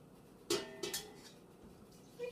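Milk being stirred into a cooking pot: a sharp metallic clank of a utensil against the pot, then a few lighter scrapes and knocks over a low stove hiss, with no talking.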